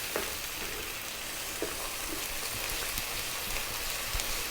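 Chopped garlic and ginger being mixed into a hot frying pan for a vegetarian rice dish, a constant dense sizzle with light crackles and a few soft stirring clicks.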